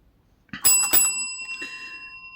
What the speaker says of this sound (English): The bell rang, and Sophie began her assault.